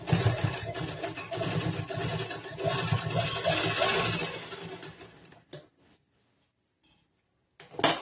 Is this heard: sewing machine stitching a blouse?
yes